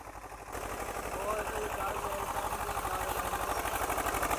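A tractor engine chugs in a field while covering chickpea seeds, a rhythmic mid-low throb that starts quieter and swells louder as it comes closer.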